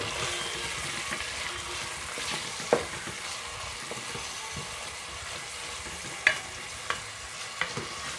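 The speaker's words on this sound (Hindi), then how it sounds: "हम प्याज को भूनेंगे" Onions fry quietly in a pan for chicken do pyaza, a soft steady sizzle punctuated by several sharp clinks of a spoon against the metal.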